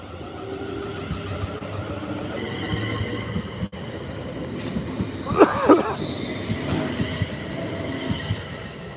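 A Pendolino class 401 with eight coaches pulls out of the station on the Liverpool service, with low rolling rumble, a brief wheel squeal midway and steady rail noise throughout.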